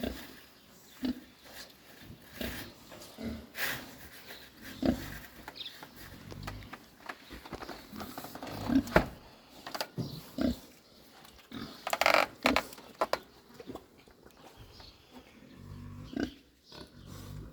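Farm pigs of about 100 to 140 pounds grunt and snort close by, a steady run of low grunts with occasional louder squeals and shuffling noises.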